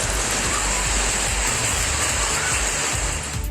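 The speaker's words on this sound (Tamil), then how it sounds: "பலத்த காற்றுடன் ஆலங்கட்டி மழை பெய்தது" Heavy hail and rain driven by strong wind in Thudiyalur, Vadamadurai, Narasimhanaickenpalayam and Kavundampalayam, a loud, dense, unbroken roar of pelting downpour with no voices.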